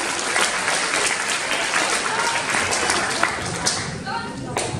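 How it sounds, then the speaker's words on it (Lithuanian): An audience at a school award ceremony in a Lithuanian progymnasium claps steadily, a dense, sustained wash of applause filling the hall with a few sharper claps standing out. "Palydim Danielių plojimais."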